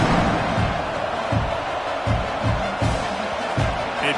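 Home crowd at an Ole Miss vs Oklahoma college football game, a dense, steady roar of many voices filling the stadium, broken by low, thumping beats throughout.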